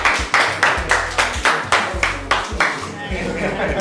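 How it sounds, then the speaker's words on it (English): An audience claps for contestants at a balloon-popping elimination game show, a run of about a dozen sharp, evenly spaced claps that stay loud and close before thinning at the end. "People should clap for your guys."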